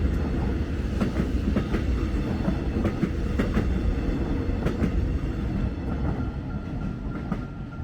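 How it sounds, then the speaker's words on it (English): A city-bound train rumbles past Clifton Hill Railway Station, Victoria, steadily and loudly, its wheels clattering rhythmically over the rails throughout. "So once again, that's a city-bound train."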